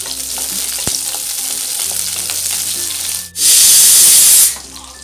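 Food sautéing in a pan in a home kitchen: a soft, steady sizzle with light stirring, then a sudden loud hissing burst of frying for about a second before it settles back to a quieter crackle.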